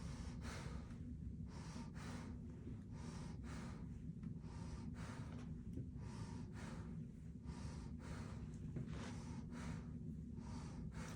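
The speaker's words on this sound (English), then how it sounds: "Deep breath in and out." A person takes slow, deep breaths in and out during a lung examination, about ten regular breath cycles with clear airy rushes, close up and steady, with no talking.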